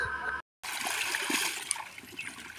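Water splashes and trickles during a household clothes wash, soft close splatters and dribbling interrupted by a brief silent gap, faint and uneven, with no clear talking.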